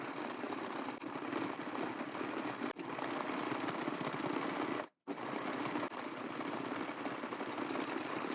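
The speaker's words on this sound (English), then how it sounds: "we're going to keep our machine on the zigzag stitch and we're going to stitch down the elastic" A sewing machine set to zigzag stitch sews elastic onto doll underwear, running steadily with a fast mechanical whir. It pauses briefly twice, once for a fraction of a second near the middle, then starts again.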